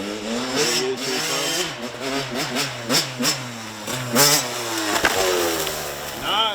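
A kid's fast dirt bike on a homemade backyard trail revs and accelerates repeatedly, its engine pitch rising and falling loudly up close, with a person talking in between.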